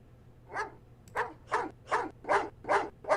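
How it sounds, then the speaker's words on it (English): A dog outdoors near a house barks seven times in a steady, evenly spaced rhythm, each bark sharp and moderately loud at a middle distance, with no talking. "I love that the dog is just barking into the distance."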